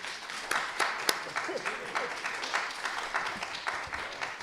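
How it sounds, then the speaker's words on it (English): An audience at a Washington Commissioner of Public Lands candidate forum claps for the candidates, a moderate patter of applause from a modest-sized room with a few louder sharp claps, fairly soft overall. "Let's give a round of applause for our candidates here tonight."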